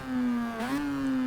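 A rotary engine in a Toyota racing car from Forza Motorsport 6, revving hard. It holds a steady, buzzing high-rpm note that dips briefly and then climbs again, loud and close, with no voices.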